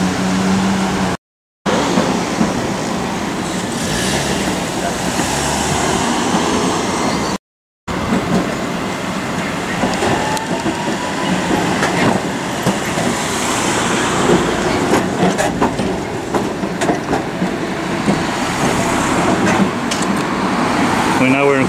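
Christchurch heritage tram rolling along a city street, a steady broadband rumble and rattle heard from nearby outdoors with traffic noise around, and voices talking through it.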